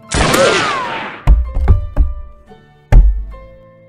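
Dancing-bullet gunfire in the Western shooter Red Dead Revolver, a loud swelling whoosh followed by a rapid cluster of sharp close shots, a pause, then one final heavy shot ringing out.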